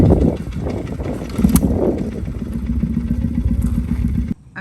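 A motorcycle rides past or away, its engine a rough mid-range drone with rattling clatter, fairly close and loud, then cutting off abruptly near the end; no talking.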